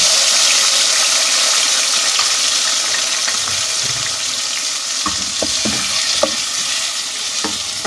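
Tomatoes and spice masala fry in hot oil for a masala tori dish, a loud steady sizzle with occasional stirring clinks and pops, close and unbroken, no one speaking.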